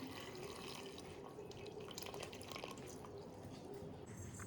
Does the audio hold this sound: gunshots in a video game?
no